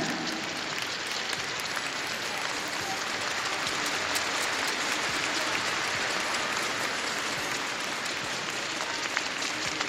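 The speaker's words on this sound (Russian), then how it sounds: "тренер-отец фигуристки Кент Йонсен аплодировал своей подопечной" Steady, dense crowd applause in an arena at a European Championships women's figure skating short program, sustained and loud for the whole stretch with no clear voices.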